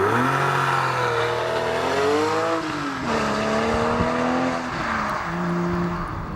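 A 2013 Porsche 911 Carrera 4S with a 7-speed manual transmission, its engine revving in rising and falling pulls with a clear harmonic whine, a brief dip mid-run, then a steadier higher drone, loud and close.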